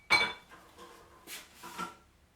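A spatula scrapes and taps inside a bowl while mixing coffee macaron batter with espresso powder, with a few soft close clinks and scrapes over about two seconds.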